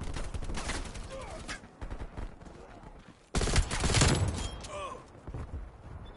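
Rapid bursts of gunfire from the Call of Duty Cold War video game, dense and loud, with a louder barrage in the middle and continuous game noise throughout.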